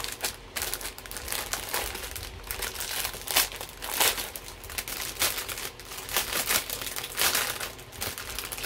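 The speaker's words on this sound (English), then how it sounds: "Sorry for the crinkling" Plastic packaging around a set of diamond art coasters crinkles and rustles continuously at close range, with irregular crackling bursts and no talking.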